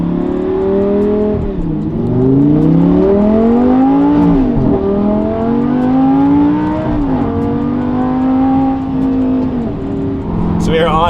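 A repaired, previously crashed Lamborghini's engine revs and pulls through the gears while driving, loud and close, with rising and falling pitch sweeps and a brief higher whine near the end.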